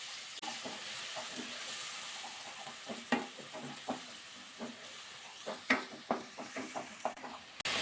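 Onion paste frying in oil in a pan with bay leaf and whole spices, a faint steady sizzle broken by repeated spatula stirs and scrapes in an uneven rhythm, close and quiet.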